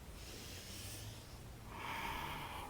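Slow breathing during a yoga sun salutation flow: a soft nasal inhale followed by a longer, airy exhale, close and quiet with no talk.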